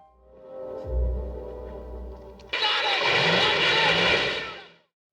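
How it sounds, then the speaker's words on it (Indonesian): A car engine is started after repair, a low rumble building up, then a sudden loud, broad roar that holds steady for a couple of seconds before cutting off. "akhirnya mobil itu bisa dihidupkan kembali"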